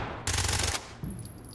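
Gunfire in the Ready or Not tactical shooter: a dense half-second burst of rapid shots, loud and close, followed by a single further report and a faint high whine.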